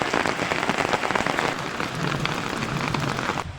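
Heavy rain falling in a mountain village, a dense steady patter of drops on surfaces close by, loud and continuous before easing slightly at the end, with no talking.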